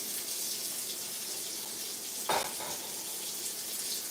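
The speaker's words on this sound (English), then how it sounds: "I always like to rinse them again." Cherry tomatoes are rinsed under a running kitchen tap, giving a steady close hiss of water throughout with a brief louder splash partway through.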